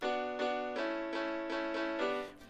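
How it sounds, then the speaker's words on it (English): Piano spread wide in stereo, sustained chords restruck roughly every three-quarters of a second and ringing together, steady and alone without any voice. "And now it is in stereo."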